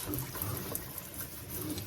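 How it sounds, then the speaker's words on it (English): Water is poured onto a freshly repotted houseplant, making a soft, steady trickle and splash that runs continuously at low volume without any speech. "I'm just going to water the plant in"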